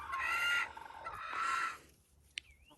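Newly bought chickens settling into a hoop coop give two drawn-out, throaty clucking calls nearby, then fall quiet except for a faint chirp at the end.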